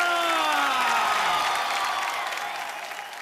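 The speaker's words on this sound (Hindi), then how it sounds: "हमारे एक बार जोरदार तालियां" Enthusiastic studio audience applause with cheering on a Hindi television game show, loud at first and gradually fading, with whoops and a rising sung or shouted tone over the clapping.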